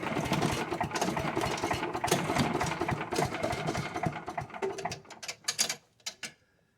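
A Yard Man wood chipper engine with low compression cranks over with oil in its cylinder, giving a fast, steady mechanical chugging for about five seconds before it slows to a few last strokes and stops.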